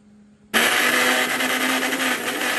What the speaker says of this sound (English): I'm going to blend this crayfish and pepper.